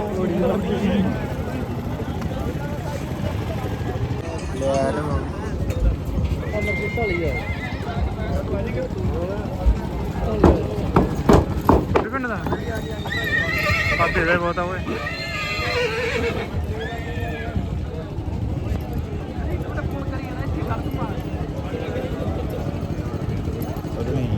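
A horse neighs loudly several times amid clopping hooves at a horse fair in Talwandi Sabo, Punjab, with people talking nearby throughout.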